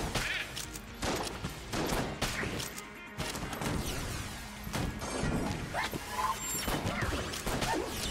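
Dense enemy gunfire rattles through a room in Enter the Gungeon, rapid overlapping shots and impacts forming a near-constant volley with a brief dip midway, with no talking.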